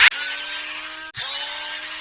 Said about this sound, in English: we're going to start by taking 2 screws out of the front here